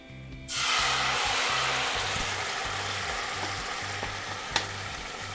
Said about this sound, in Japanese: そしたら先ほどマリネしたカットトマトが入ります。